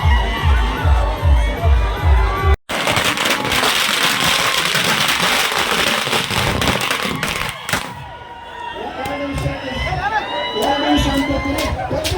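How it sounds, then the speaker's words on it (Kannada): Firecrackers burst in sharp rapid cracks during a sugarcane farmers' victory celebration at Gurlapur Cross, mixed with a cheering, shouting crowd and a loud thumping beat at the start. "ರೈತರು ಪಟಾಕಿ ಸಿಡಿಸಿ ಸಂಭ್ರಮಾಚರಣೆ ನಡೆಸಿದರು"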